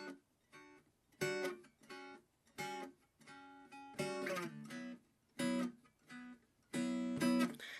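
Chromatic dulcimer strumming rootless jazz chord voicings, a slow progression of bright ringing chords with short gaps between them, close and quiet, played alone.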